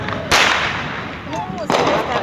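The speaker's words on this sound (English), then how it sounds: "We're not sure where that firework went" Minecraft fireworks go off as two separate sharp bursts about a second and a half apart, each loud and crackling, then fading into a soft hiss before the next.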